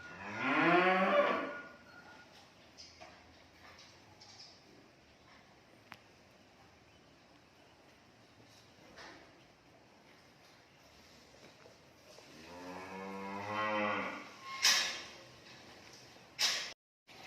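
Cattle in a freestall barn low loudly, one long drawn-out moo opening and another near the end, with quieter shuffling and clanks between.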